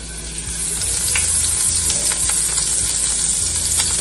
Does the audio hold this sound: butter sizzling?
yes